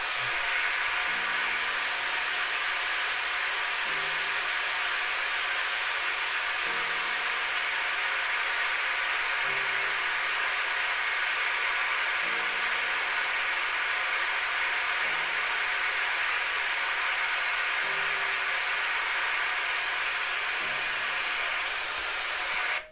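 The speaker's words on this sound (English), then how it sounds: "They're only 1 minute pattern test tones." Subwoofer calibration pattern test tones played through speakers during a manual Audyssey MultEQ-X and REW setup, heard as repeating low pulses roughly every three seconds beneath a steady broadband hiss.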